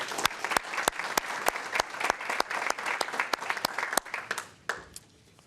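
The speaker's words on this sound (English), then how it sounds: "Round of applause for those folks, please." Round of applause at a school board meeting honoring retiring staff, moderate room clapping with distinct individual claps, steady for several seconds then tapering off quickly at the end.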